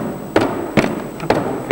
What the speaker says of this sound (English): Make it land with a bang.